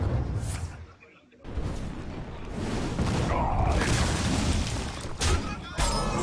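A fireball spell explodes in Hearthstone, played in a cinema in front of a crowd: a booming impact, then a sustained crackling roar with further bursts, heard under a caster's voice.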